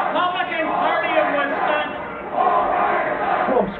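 A Trump rally crowd in Wisconsin shouts and chants together, a dense roar of many voices swelling and dipping, heard through a narrow, broadcast-quality channel with a reporter's voice over it.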